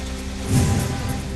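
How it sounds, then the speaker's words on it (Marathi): Heavy monsoon rain falls across villages in the Mangaon valley, a steady broadband wash with a slightly heavier surge midway through the brief stretch. "माणगाव खोऱ्यातील अनेक गावात मुसळधार पाऊस."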